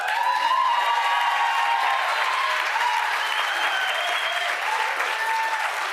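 Sustained applause from an audience filling a room at a 2024 governor candidate forum, steady dense clapping throughout with no one speaking over it.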